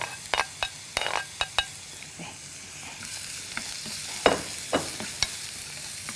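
Carrot and ham tossed into a small pan and fried for an omelette, with a cluster of quick clattering spatula strokes followed by a rising sizzle and a few more scrapes, close and without talk.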